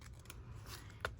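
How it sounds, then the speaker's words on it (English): Small cheap scissors snip paper at a journaling desk, a single faint crisp cut near the end over quiet room hiss. "I've kind of grown fond of these little cheap scissors that I have too."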